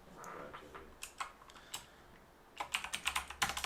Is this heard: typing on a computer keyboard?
yes